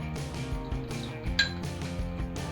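Fish and masala paste mixed by hand in a metal bowl make a quick series of light clinks and scrapes, close and fairly quiet, lasting a couple of seconds.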